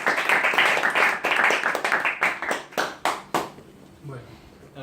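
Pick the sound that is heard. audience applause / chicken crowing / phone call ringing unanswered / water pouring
audience applause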